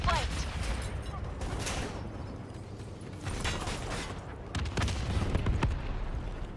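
Gunfire from the video game Call of Duty Black Ops III crackles in clustered bursts with mechanical clatter, moderately loud and uneven, under a faint voice.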